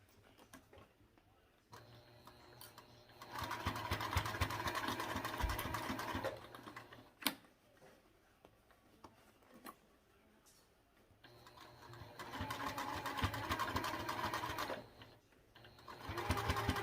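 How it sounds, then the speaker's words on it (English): A sewing machine stitches the back seam of a mini backpack in two long bursts, with a short quiet pause between them and a steady, close mechanical whir. "the back is pinned, so we'll go ahead and sew that part"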